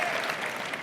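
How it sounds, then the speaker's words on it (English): Studio audience on a late-night talk show breaking into dense, steady applause, a brief close burst of many hands clapping at even loudness with no talk over it. "You can applaud, not for global warming"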